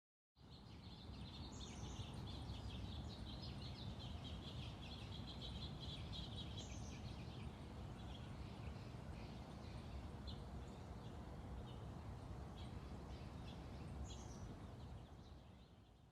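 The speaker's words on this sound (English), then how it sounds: "I was able to capture some lovely bird sounds." Birds sing outside an apartment building, with repeated high chirps and short song phrases over a steady outdoor hiss, fairly faint and distant, no one talking.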